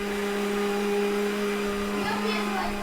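A blender grinding garlic-ginger paste with coconut, a steady loud motor whine with a constant drone throughout and a slight change in pitch toward the end.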